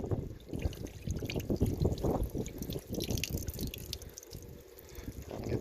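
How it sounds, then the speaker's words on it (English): Water from a watering can splashes and trickles over a grill as suds are rinsed off, a soft steady pattering and dribbling at close range. "It's not every day you rinse a grill with a watering can."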